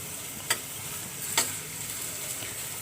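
Sliced onions fry in hot mustard oil in a pan, giving a steady soft sizzling hiss throughout, broken by two brief sharp clicks of a utensil, close and moderately quiet with no speech.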